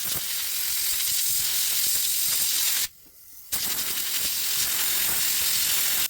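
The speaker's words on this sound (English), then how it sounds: "Now we're going to dry it out with an air blower." An air blower hisses loudly and steadily while drying a part during maintenance of a 2009 Can-Am Outlander, cutting out briefly for about half a second before resuming.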